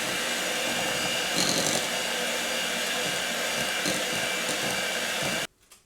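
An electric mixer whirs steadily through keto chocolate mousse, a continuous close buzzing with slight scraping, stopping abruptly near the end.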